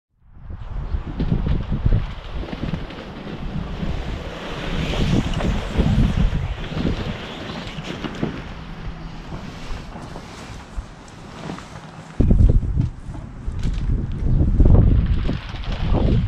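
Strong wind gusting outdoors beside a Bestway Steel Pro MAX frame pool, loud rumbling buffeting against the microphone that rises and falls in waves throughout, with no talking.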